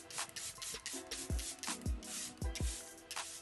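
Charlotte Tilbury Airbrush Setting Spray misted onto a face in several quick, close hissing bursts, mixed with soft rubbing and light handling thumps.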